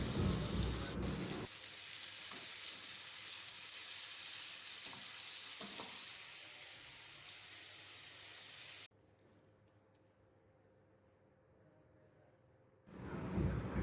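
Fish frying in a pan for pickle gives a loud, continuous, close sizzle that drops sharply to a quiet hiss for a few seconds, then surges again at the end.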